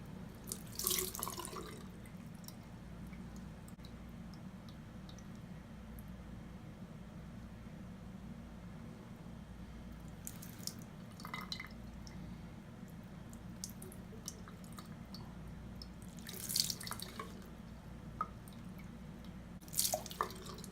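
Water runs steadily from a tap over a glass screen protector fitted on a G-Shock GG-1000 Mudmaster watch, a constant trickle with a few louder splashes and drips near the start and end.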